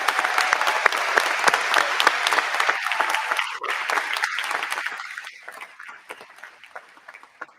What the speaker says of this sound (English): let's have a round of applause for everybody for their years of service